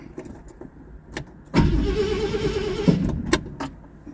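A cold truck engine cranks and catches, a broad rumbling burst running about a second and a half, framed by a few light clicks and knocks before and after, close by with no talk.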